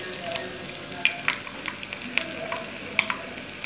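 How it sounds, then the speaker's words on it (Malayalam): Pieces of tender jackfruit deep-frying in hot oil in a pan give a steady, close sizzle, dotted with sharp crackles and pops throughout. "ഇത് വറുത്ത് കോരുക."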